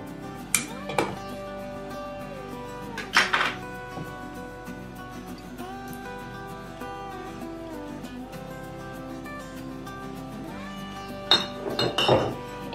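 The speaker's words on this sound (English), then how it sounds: "And I'm going to add 2 pints of tomato sauce." Glass jars of home-canned garden tomato sauce clink as they are handled and poured into an Instant Pot: a few sharp, bright taps scattered through a quiet kitchen, with the loudest near the start and end.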